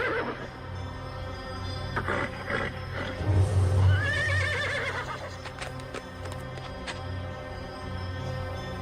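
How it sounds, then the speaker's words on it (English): A cartoon horse neighs loudly in a wavering whinny, set against a busy animated soundtrack with hoof clip-clops and other effects. "Sure are a funny-looking horse, aren't you, boy?"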